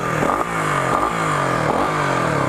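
A Kawasaki KLX 250 motorcycle with an Akrapovic exhaust revs repeatedly with a deep, throaty exhaust note, rising and falling in several close, loud pulses.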